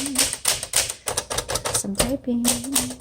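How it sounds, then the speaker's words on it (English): Typing on a 1963 Smith Corona Sterling 5AX manual typewriter: quick, uneven bursts of key strikes close up, with a brief ringing tone near the end, likely the margin bell and carriage return. "Let's do some typing."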